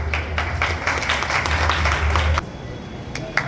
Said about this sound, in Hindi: और एक बार जोरदार ताली